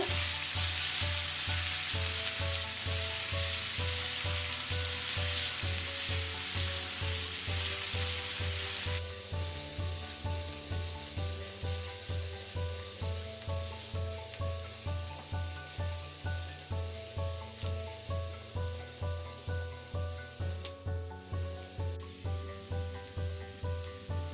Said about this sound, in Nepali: अब प्याजलाई रातो हुने बेलासम्म फ्राई गर्नुपर्छ